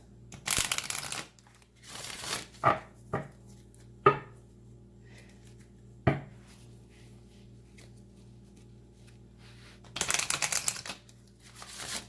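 True Love reading cards by Belinda Grace being handled up close: scattered crisp shuffles and sharp taps of card stock, a few brief rustling bursts separated by quiet gaps.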